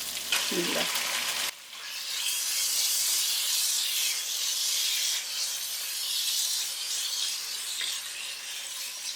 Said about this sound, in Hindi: चिकन को व्हाइट होने तक फ्राई करेंगे